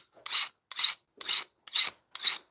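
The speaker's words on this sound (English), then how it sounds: "Sharpening with just a normal radius rasp file, whatever." Five even, close rasping strokes come from a normal radius rasp file of the kind used for chainsaws, sharpening during hoof trimming. Each stroke is a short, bright scrape with a brief pause between strokes.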